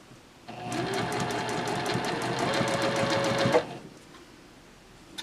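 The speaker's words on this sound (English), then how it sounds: "we're going to sew right here down to this space because it's a granny square" A sewing machine stitches binding onto a granny-square crochet blanket, running in one steady, rapid whirring burst of about three seconds close up, then stopping, with no voices.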